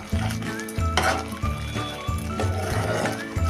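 Cashew masala gravy stirred in a pan, with a steady sizzle under regular scraping strokes of a spoon against the pan, close and continuous.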